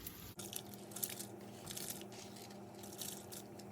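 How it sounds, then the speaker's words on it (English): Rice tipped into boiling water in a pan for chicken biryani, a brief sharp splash and clatter at the start followed by a faint bubbling simmer with light crackles, quiet and close. "and now I'm going to add the rice."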